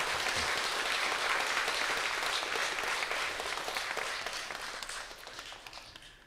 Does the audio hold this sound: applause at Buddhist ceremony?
yes